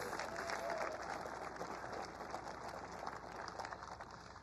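A crowd at the Chandler Intel plant applauds faintly and at a distance, a soft, steady wash of clapping with murmuring voices beneath it.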